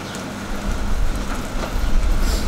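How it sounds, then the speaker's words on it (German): Heavy rain pouring down outdoors on a walk to fetch milk from a farm, a dense constant hiss and patter with low rumbling, fairly loud and unbroken, no voices. "bis es nicht mehr ganz so stark regnet"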